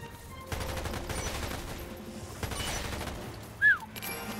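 Assault rifle fire in the video game Umbrella Corps, a steady run of shots and rattling game noise throughout, with a short sharp chirp near the end.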